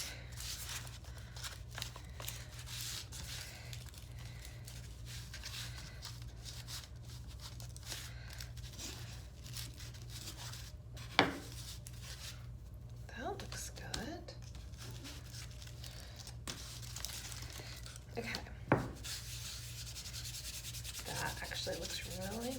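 Breath mint dough being rolled out with a rolling pin to about an eighth of an inch, giving a steady soft rubbing and scuffing with a few small knocks, near and fairly quiet under quiet talk.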